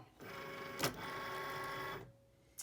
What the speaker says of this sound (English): we just load that under the feet and press the load button